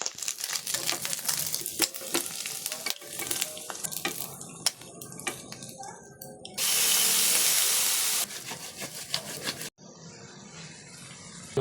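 Shrimp shells toasting in a hot pan give a dense, steady sizzle with crackling bursts, swelling into a loud, even hiss for a couple of seconds near the end before settling back.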